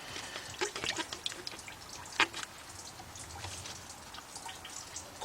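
Fluid drains from a hose into a pan under a car during timing cover work on a Chrysler Sebring, a faint irregular trickle with scattered drips and small splashes close by.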